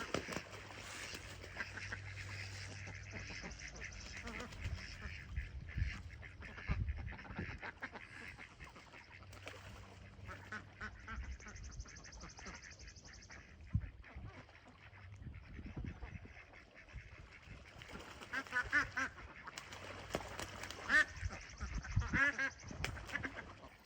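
Geese and ducks at a farm pond, faint honking and quacking scattered across an outdoor scene, some calls clustered, distant and quiet amid low background noise.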